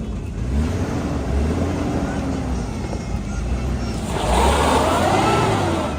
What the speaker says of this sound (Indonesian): mobil mau mundur